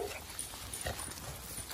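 Newborn puppies whimper and yip faintly in a noisy, muffled indoor space, with soft high cries scattered through the din.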